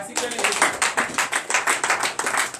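A church congregation claps in acclamation to Jesus during a night prayer service, the hands striking together in a quick, regular rhythm that stays fairly close and lively throughout.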